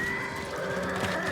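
A horse whinnies at the stables in the video game Survive the Night, a short, bright, wavering neigh heard close and clear over a steady game-ambience bed.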